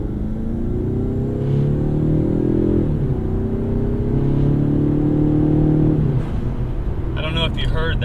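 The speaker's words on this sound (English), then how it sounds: "it definitely has a little bit more growl and a little more tone to the exhaust" Car exhaust fitted with a CV Fab catless downpipe and MRT Y-pipe, growling steadily at low rpm with the tone rising twice as the engine revs build. A brief pause comes near six seconds before the drone resumes, and faint clatter follows near the end.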